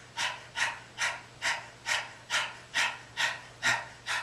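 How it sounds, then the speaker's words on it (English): Rapid yoga breath of fire: nine forceful, evenly spaced nasal exhales, roughly two per second, each a sharp close puff of air fading quickly, with a faint steady hum underneath and no talking. "in breath of fire, you focus on the exhale, and the inhale will take care of itself"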